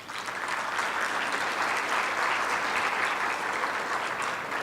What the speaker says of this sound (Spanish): Recibámosle con un caluroso aplauso.